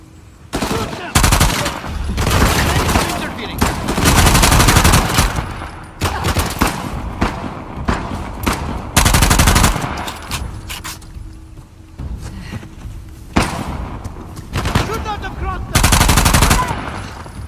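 Video game gunfire in Uncharted: The Lost Legacy, with loud bursts of automatic and single shots coming in repeated volleys, close and dense, with brief lulls between them.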